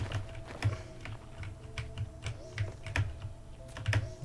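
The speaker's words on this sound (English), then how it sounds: "now I'm using a keyboard and mouse" Rapid keyboard typing mixed with mouse clicks during a computer game, a quick irregular patter of light taps, fairly soft and close.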